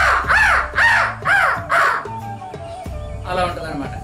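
A voice mimics an angry crow with four quick, harsh caws in a row. A brief murmur of speech follows them.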